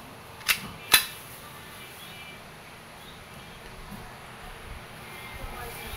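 Two sharp pops from a CO2-powered Glock 17 Gen 5 airgun fired through a chronograph, closely spaced near the start, then quiet ambient background.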